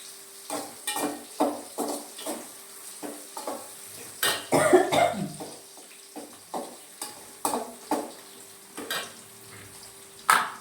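Onions sautéing in a pan for a bitter gourd tamarind curry, a soft sizzle beneath regular scraping and knocking of a spoon stirring against the pan, close by and without speech.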